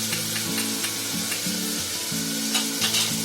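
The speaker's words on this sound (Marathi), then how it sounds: "आलं लसूणची पेस्ट टाकते." Ginger-garlic paste sizzling and frying steadily in a pan, a continuous close crackle with occasional stirring scrapes, no speech.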